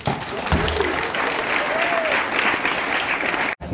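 Crowd applause for hula dancers at a Polynesian cultural village show in Hawaii, a dense, steady clapping from many hands that holds throughout before a brief cutoff near the end, with voices mixed faintly underneath.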